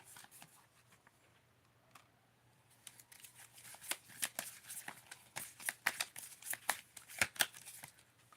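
Tarot cards are shuffled and dealt close by, a quiet run of crisp riffles and snapping flicks that grow denser and sharper toward the end, with no talk.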